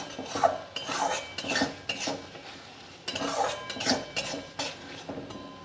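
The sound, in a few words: masala being stirred and sautéed in a pan for egg curry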